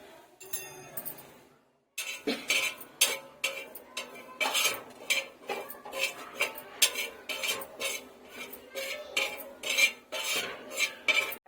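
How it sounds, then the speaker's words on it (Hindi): Mustard seeds roasting on a hot tawa while being stirred, giving a busy run of crisp metallic clinks and scrapes from the spatula after a short quiet start, with no talking. "राई को अच्छे से भूंज लेंगे चलाते हुए"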